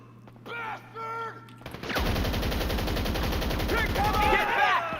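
A full magazine emptied in GTA 5 Online, a sustained rapid burst of automatic gunfire lasting about three seconds after a few short voice-like sounds, loud and continuous.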